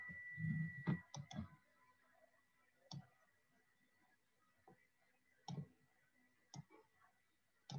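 A computer mouse clicks while a Microsoft Word window is being maximized: sparse, faint, sharp single clicks spaced irregularly, some in quick pairs, over a quiet room with a little low handling noise.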